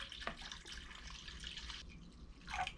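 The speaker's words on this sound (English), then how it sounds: "You can go ahead and fill that pot up a little more with your other bottle." Water poured from a bottle into a Dutch oven for a batch of mead, a close, steady splashing and trickling that swells again near the end.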